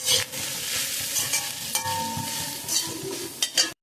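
Urad dal and grated coconut sautéing in a pan, a continuous sizzle broken by several sharp scraping stirs of a spoon against the pan, close and with no talking.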